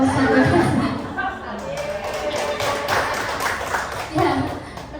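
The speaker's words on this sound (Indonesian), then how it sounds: "tepuk tangan untuk yang betul tadi" A classroom or training group applauds a correct answer, with scattered hand claps and taps mixed under chatter and talk, fairly loud and close, rising again briefly near the end.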